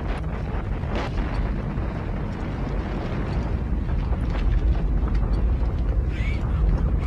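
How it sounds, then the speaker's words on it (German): Stormy weather in a horror video game, a steady roar of wind and rumbling gusts building slightly louder toward the end, with faint scattered knocks and a brief higher tone near the close. "Wirklich sehr stürmisch draußen."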